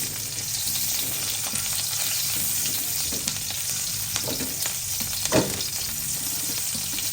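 Onion and garlic sautéing in a pan, a steady broad sizzle of frying with occasional stirring scrapes and clinks, close and continuous throughout.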